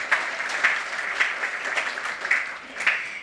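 An audience at a tribute gathering at a Mahadevnagar service centre applauds, moderately loud rhythmic clapping with distinct regular accents, steady for a few seconds without speech.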